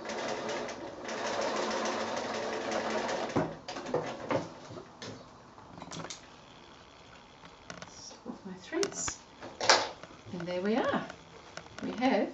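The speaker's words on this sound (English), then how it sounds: "we're going to insert the ends into there, stitch across" A sewing machine stitches across the top of a square drawstring bag sewn from 6-inch quilting squares, a dense steady whirring buzz for a few seconds before it stops and a person talks.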